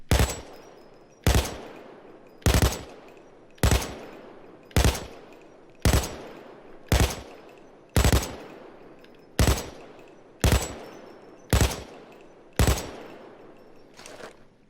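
An RPK light machine gun in Payday 2 fires twelve loud, sharp single shots at an even pace of roughly one per second, each report ringing off briefly before the next, with no talking.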